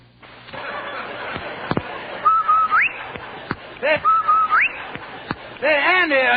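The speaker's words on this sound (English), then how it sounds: "Hey, Andy, did you hear the whistle?" A rising slide whistle sounds twice in quick succession among sharp knocks and clicks, followed by a warbling tone, loud and close.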